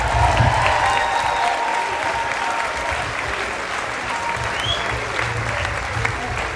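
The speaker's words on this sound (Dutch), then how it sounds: "uw applaus en laat u maar eens een keer goed gaan" A gala crowd at Mister Gay Belgium 2017 gives sustained, even applause as a singer is brought on, loud clapping filling the whole stretch with faint voices underneath.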